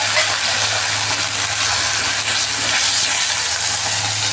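Boiled, salted elephant apple pieces fry in a wok for a sweet-sour pickle, giving a loud, steady, close sizzle and hiss that continues unbroken without talk.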